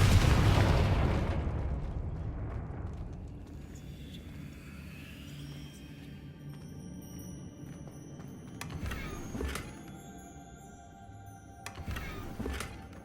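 A Confringo fire spell in the Hogwarts Legacy video game sets off a single loud explosive blast that rumbles away over a few seconds, followed by a quieter game ambience with faint chimes.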